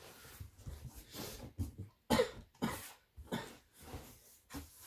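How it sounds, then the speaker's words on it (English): Several sharp coughs in an irregular series, close to the microphone, with rough breathing between them and no speech. "Don't worry if I cough."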